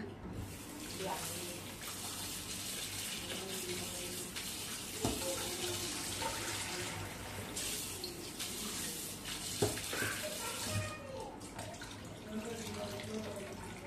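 Prawns are washed under a running tap, a continuous soft gush of water with scattered splashes and clinks, fairly quiet, while a voice talks intermittently in the background.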